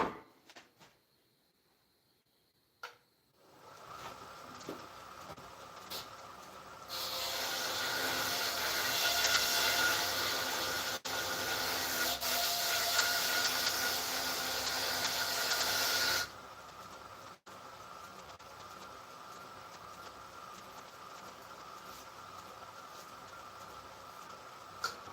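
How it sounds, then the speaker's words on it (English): A wood-turning tool is sharpened on a belt grinder, a steady whirring run with a louder, brighter grinding stretch of about nine seconds as the steel meets the belt, then the motor keeps running more quietly. "I'm just gonna touch up this tool on the belt grinder"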